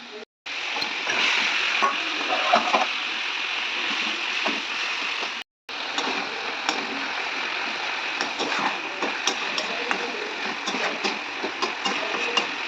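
Tomato and ginger gravy sizzles steadily in a pan as it is stirred, a continuous close frying hiss with scattered scrapes, broken by two brief silent gaps.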